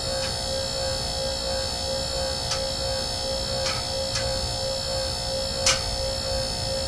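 A steady mechanical hum from a portable car lift runs throughout, with about five sharp metallic clicks of its safety locks spaced irregularly over it.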